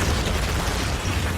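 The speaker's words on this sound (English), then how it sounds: "Now comes bombardment by artillery." An artillery shell bombardment rumbles as a dense, heavy low boom that fills the whole moment, loud and continuous with no voices over it.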